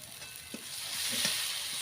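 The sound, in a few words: spice paste sizzling while frying in pan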